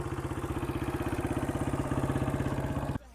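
A Honda CRF150 dirt bike engine idles steadily after a carburetor pilot circuit fix, a close, even rapid thumping pulse that holds for about three seconds and then cuts off abruptly.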